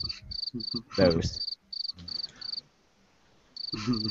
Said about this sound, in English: I was waiting for the crickets.